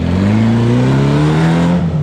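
A 1600cc Class 11 race car engine on a dyno revs hard, its loud steady roar climbing smoothly in pitch through a full-throttle pull without pause.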